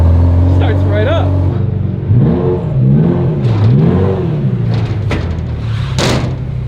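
A Ferrari 348 with a freshly rebuilt engine cranks and catches, then revs up and down in several rising and falling sweeps, loud and close, with a sharp burst near the end and voices talking over it.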